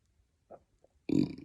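A single loud, deep burp bursts out near the end after a few faint murmurs, close and resonant, with no talk over it.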